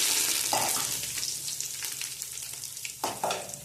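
Asafoetida and curry leaves crackle in hot oil for Gujarati undhiyu, giving a steady close sizzle. Stirring scrapes and a fresh sputtering burst land near the end, with no voices.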